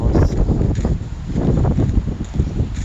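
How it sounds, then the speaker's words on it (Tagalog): Gusty wind buffets the microphone, a loud rumbling roar that swells and dips in uneven bursts. "medyo hangin yung dinadaanan ko"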